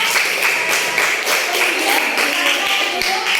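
Students in a classroom break into group applause, a bright, continuous rattle of many hands with sharper individual claps popping out, holding steady and close throughout.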